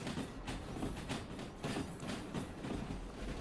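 A steam locomotive hauling a long, heavy string of gondola cars in the train game Derail Valley keeps up a steady rhythmic clickety-clack of wheels on rail joints over a constant rolling rumble.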